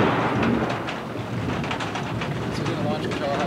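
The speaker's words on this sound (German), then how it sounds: "In Camp Blanding in Florida hat mal wieder ein Blitz eingeschlagen." Thunder from a rocket-triggered lightning strike at Camp Blanding, Florida, rolls as a dense, steady low rumble with a noisy wash of wind across the whole stretch.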